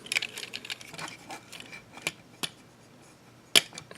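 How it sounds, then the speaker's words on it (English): Ratcheting plastic joints on a Transformers Generations Voyager Class Roadbuster toy click in an irregular series of sharp, close ticks, with one louder snap near the end, over a quiet background and no talk. "you can again hear the ratchets"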